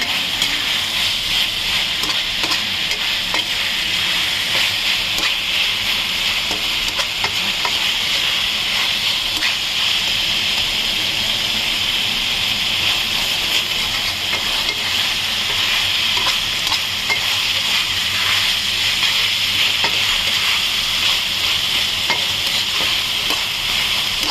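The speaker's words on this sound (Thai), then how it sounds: "นี่ผัดกะเพรา" Thai holy basil stir-fry, pad kaphrao, hisses loudly and steadily in a hot pan for a long stretch, with continuous bright sizzling and faint stirring, no voices.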